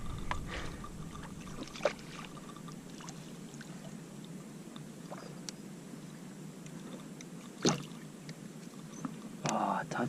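A kayak is dragged across the water by a large hooked stingray, producing steady watery rushing and lapping against the hull, with a couple of sharp knocks and a splashy burst near the end.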